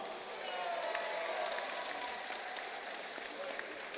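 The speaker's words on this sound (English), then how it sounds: "Ladies and gentlemen, round of applause for both fighters." A packed arena crowd at Birmingham's Q Club applauds both MMA fighters after a three-round bout: steady, dense clapping with some cheering and voices, sustained at even loudness throughout.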